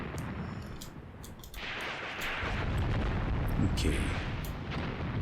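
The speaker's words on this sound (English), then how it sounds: "Looks like our mortars are now falling." Mortar and 25-pounder artillery shells exploding in the WWII tank game Tank Warfare: Tunisia 1943, a rolling, rumbling barrage of distant booms that swells louder partway through, with a brief spoken word over it.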